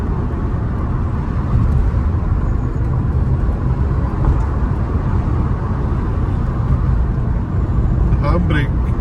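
A small hatchback with a 1.2-litre engine drives along, its steady engine and road noise droning loud and close inside the cabin for the whole stretch.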